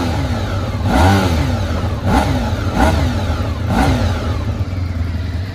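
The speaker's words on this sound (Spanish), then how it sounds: "El sonido ya pues característico por la configuración del motor. Cuatro cilindros en V." A restored Honda RC30 VFR750R with its V4 four-cylinder engine revs repeatedly from a loud, close idle, each blip of the throttle rising and falling in a regular rhythm, no talk.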